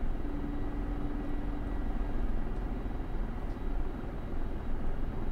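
Mi-24 Hind helicopter from DCS taxiing on the ground: a steady, broad engine and rotor roar, continuous and close, with a faint tonal whine early on and no voices.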